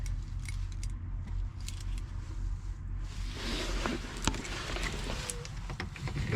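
A set of Volvo car keys jangles close by in a vehicle cab, with light metallic clinks and a few sharper rattles over a steady low engine hum.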